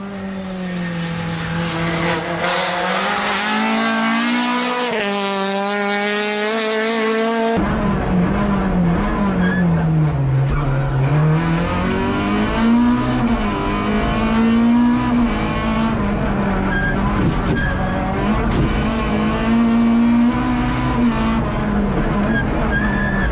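A Peugeot 106 rally car runs flat out on a rally stage, its engine roaring loud and close with rising and falling revs through gear changes and corners, steady and unbroken throughout.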